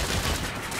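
Gunfire crackles at a convoy in the video game Saints Row, a dense rapid burst of shots mixed into a loud, busy action soundscape, brief and without speech.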